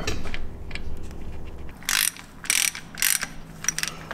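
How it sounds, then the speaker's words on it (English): Ratchet tightening the differential drain bolt on a Jeep Wrangler JL axle, short bursts of sharp clicking in quick succession close by, after a low mechanical hum. "Now we can go ahead and reinstall the drain bolt,"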